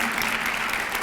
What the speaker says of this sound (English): we can like at least applaud that